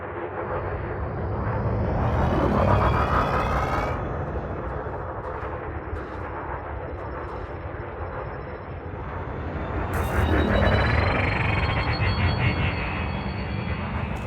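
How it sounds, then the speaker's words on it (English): Spaceship engine thrust in Elite Dangerous accelerating, a loud continuous roaring rumble that swells and rises in pitch over about fourteen seconds, with a brief whine near the end, no voices. "Now increase your throttle to accelerate forwards."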